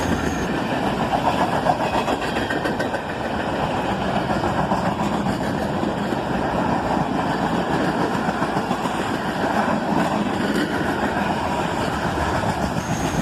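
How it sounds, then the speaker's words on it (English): A CSX manifest freight train rolls past with a steady, loud rumble and rattle of cars that holds unbroken throughout. "Another manifest train, our second one of the day."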